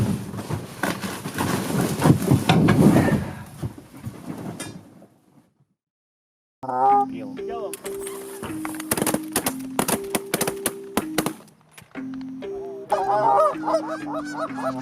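Geese honk loudly and repeatedly on a goose hunt, rough overlapping calls from a close flock coming in bursts and separated by short silent gaps.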